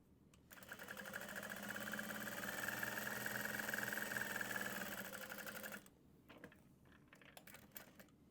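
A sewing machine runs steadily while stitching a medium-sized Regina Phalange tote bag at stitch length 5, a loud continuous whirring run of about five seconds that stops abruptly, followed by quieter handling clicks.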